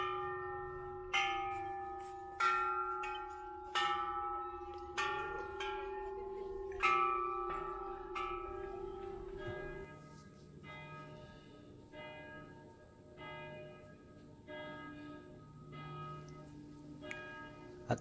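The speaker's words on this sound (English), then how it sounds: "there's a row of temple bells, and you're supposed to walk along ringing each of them in order to bring yourself blessings" A row of temple bells at Doi Suthep temple in Chiang Mai is struck one after another, each giving a clear metallic ring. The strikes come at a steady walking pace and decay into a faint, fading series.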